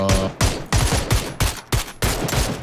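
Rapid gunshots in PUBG, about eight sharp, loud reports fired in quick succession at a steady rhythm, close and alone with no talking.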